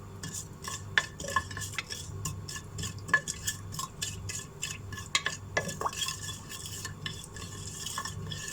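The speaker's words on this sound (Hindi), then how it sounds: "5-6 टेबल स्पून ऑयल गरम करेंगे। फिर ये जो जीरा है, ये जीरा हम इसमें पहले डालेंगे।" Cumin seeds stirred in hot oil in a pan for a khada masala mutton stew, giving a steady run of close scraping and clinking spoon strokes over a soft sizzle, with no talk.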